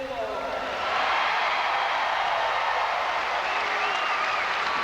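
A loud basketball crowd at a 1988 PIAA Quad A state finals award ceremony, Carlisle against Pittsburgh Central Catholic, applauding and cheering in a steady dense wash that swells after the first second, with an announcer's voice over it.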